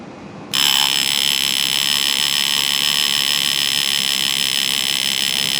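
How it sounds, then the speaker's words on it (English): The alarm on a Jaeger-LeCoultre Memovox mechanical wristwatch goes off with an abrupt, steady metallic buzz. It holds at an even level without pause after starting half a second in, with no talking. "And when that alarm goes off, the watch comes alive."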